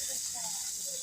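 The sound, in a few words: tomatoes being sautéed with onion in a pan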